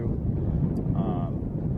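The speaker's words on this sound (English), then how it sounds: "Wind's starting to blow a little bit" Wind blowing outdoors on a lake during a fishing tournament, heard as a constant low buffeting rumble across the microphone, loud and unbroken throughout.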